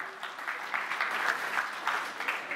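Sustained audience applause at a 2012 business conference talk on megatrends, steady and fairly dense clapping throughout with no talk over it.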